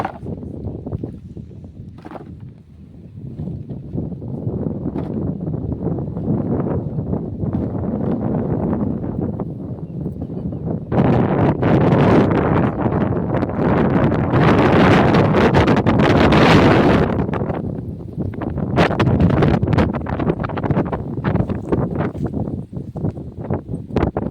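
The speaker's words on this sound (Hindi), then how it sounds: "हवा चल रही है।" Strong wind gusts through a village, loud rushing and buffeting against the microphone that builds to a heavy surge midway and then eases, with no talk.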